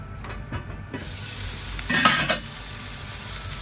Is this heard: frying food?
yes